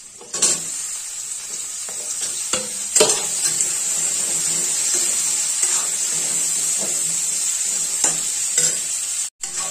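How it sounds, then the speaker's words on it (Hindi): Potatoes fry with browned onions in a pan for a Bihari tahari, a loud continuous sizzle close by, punctuated by occasional scraping stirs and clinks of a utensil against the pan. "आलू को हम इसे फ्राई करेंगे फ्रेंड्स।"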